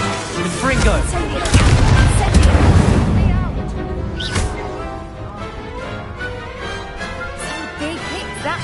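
Confringo explosive spell cast in Hogwarts Legacy on PS5, a heavy booming blast with rumbling impact during combat, loudest early and then fading into game effects and background sound.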